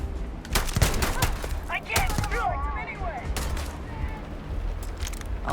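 Bursts of gunfire in the video game Starfield, with rapid loud shots in clusters and some bright whistling effects, under and between game sounds.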